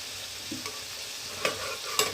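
Cumin seeds and curry leaves sizzle in hot oil for a coconut chutney, a dense, steady hiss close by, with a couple of brief pops near the end.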